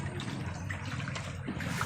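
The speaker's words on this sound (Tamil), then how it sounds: "ஐயோ தண்ணியை மறைக்காதீங்க, எல்லாம் உள்ள வருது தண்ணி." Floodwater flowing into a dark house, a steady close trickle and gush of running water that continues without break.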